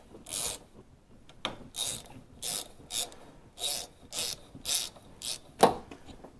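Wiper arm coming off a Saab 9-3 with a removal tool: a series of about ten short scraping, ratcheting strokes, each a sharp close burst with brief pauses between, ending in a louder metallic click.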